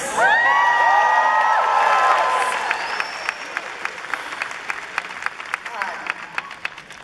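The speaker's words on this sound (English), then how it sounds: "keep that applause going" A WonderCon convention panel crowd claps, cheers and whoops loudly at first, with electronic tones sweeping over it, then thins into scattered sharp claps as the noise settles.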